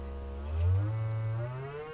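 A steady low 60 Hz test tone plays through home speakers, loud and sustained for the whole stretch, swelling slightly in the middle, with faint harmonics above it and no talking.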